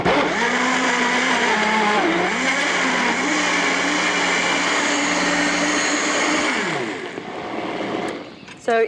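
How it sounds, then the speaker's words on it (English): A high-powered blender whirs steadily while blending a vegetable recipe with seasonings, a loud continuous motor drone that dips and shifts pitch near the end before cutting off. "So your blender at home is going to take a little more time than that"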